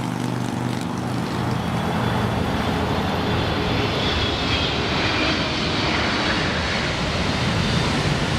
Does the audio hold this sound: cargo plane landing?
yes